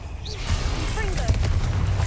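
A short magical blast from the Confringo spell in Hogwarts Legacy booms out against a low rumbling game backdrop, with a voice calling the spell name just before.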